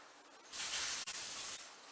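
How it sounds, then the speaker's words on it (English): Baking spray hisses from a can into a parchment-lined pan for homemade granola bars: one loud, steady spray burst lasting about a second, close to the mic, then tapering off. "Baking spray."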